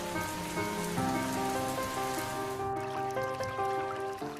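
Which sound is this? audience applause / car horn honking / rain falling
rain falling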